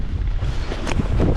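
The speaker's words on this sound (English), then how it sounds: "it's cold and windy" Strong, steady blizzard wind roars across an open goose-hunting field, a loud continuous low-frequency buffeting with gusts that swell toward the end.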